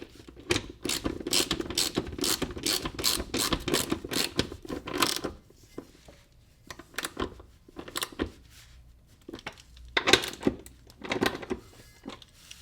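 Bolts on the drive shaft carrier of an Audi B5 S4 are snugged up with a hand ratchet, giving rapid clicking bursts close by that alternate with pauses and a few clanks.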